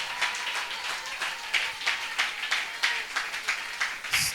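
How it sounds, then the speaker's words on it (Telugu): A church congregation claps hands together during New Year worship, giving a loud, steady rhythmic clapping of about three beats per second that continues without talk. "అందరూ ఒకసారి చప్పట్లు కొడుతూ ప్రభుని స్తుతిద్దాము"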